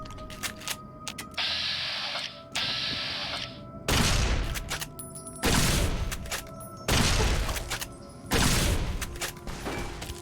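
Gunfire in Fallout: New Vegas Old World Blues, delivered as repeated loud, heavy volleys of shots in bursts of about a second each with brief pauses between them, close and punchy with no talking.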